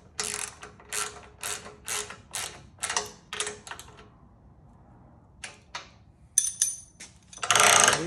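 Ratchet tightening a strap on a ShoreLand'r personal watercraft trailer, a close series of about nine crisp, evenly spaced clicking pulls, then a pause and a few final clicks and rustles.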